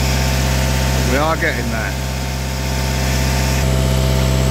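A warm 2 L diesel Peugeot Expert engine idles with a steady, close droning hum throughout, while a person briefly talks over it during an oil pressure test.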